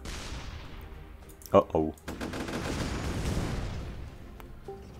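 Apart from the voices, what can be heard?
cannon shots and explosions in video game ShellShock Live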